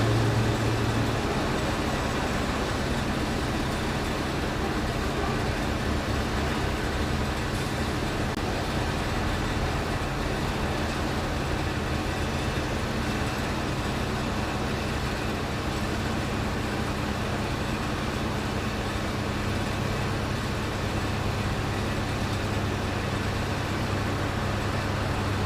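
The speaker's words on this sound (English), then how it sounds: "That's a loud truck. It's a refrigerated truck." A refrigerated truck drones loudly and continuously nearby with its door open, a steady broadband engine and compressor rumble with no breaks and no talk.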